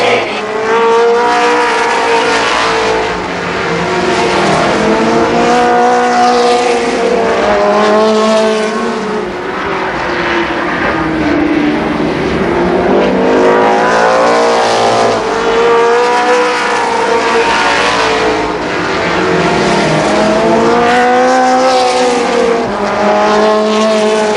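Race cars roar down the front stretch at Columbus Motor Speedway in Ohio during a 1991 main event, engines screaming loud and continuous, rising and falling in pitch as the cars sweep by on the oval.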